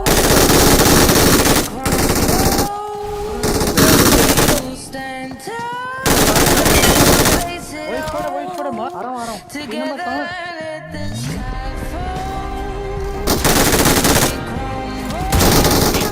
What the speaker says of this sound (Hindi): मैं MG3 और AMR गन उठा के पूरे 3 बंदों में घुस जाता हूँ।